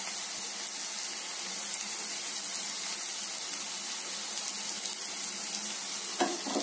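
Onions fry in a pan for a potato curry, giving a steady, dense sizzle that holds evenly throughout, close and fairly loud, with a brief clatter near the end.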